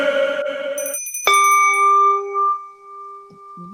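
A bright bell-like chime of a subscribe notification sound effect rings out alone, starting with a clustered ding and then a long, clear ringing tone that fades slowly, ending in a short low blip.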